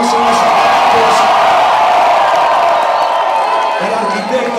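Concert crowd in Guadalajara, Mexico, cheering, whooping and applauding for the DJ at a poetry and rap show, a loud, dense roar sustained throughout with scattered shouts.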